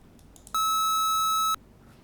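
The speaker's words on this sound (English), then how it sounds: "a loop of, let's say, this square wave-ish" A synthesized square-wave tone from a sound-programming language sounds once for about a second, a loud, steady electronic beep that starts and stops abruptly over a quiet background.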